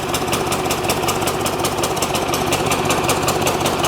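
Engine of a rental farm machine, a powered reaper, running steadily while it drives forward in first gear, a loud continuous mechanical drone with rapid knocking pulses throughout and no talk.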